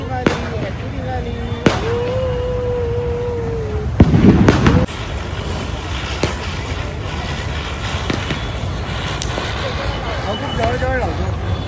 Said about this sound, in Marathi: आता या प्रकारे आम्ही फटाके फोडतोय.